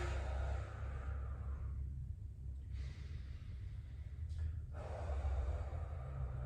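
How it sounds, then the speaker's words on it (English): Slow, deep breaths taken during a hip stretch, long airy inhales and exhales heard close up over a low steady room rumble, with no talking. "just start to breathe into that side. Three full breaths here."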